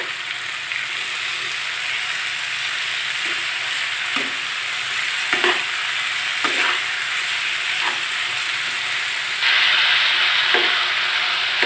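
Sliced potatoes with green chillies and a little turmeric fry in a pan with a steady sizzle, punctuated by occasional scraping stirs of a utensil, close and continuous.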